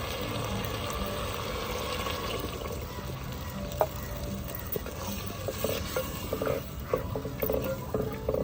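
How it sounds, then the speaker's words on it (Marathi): Water is poured into a simmering vegetable curry masala of green peas, brinjal and potato, a sizzling hiss giving way to bubbling and stirring clatter, close and steady, with no voices. "आता पाणी घालून घेऊ."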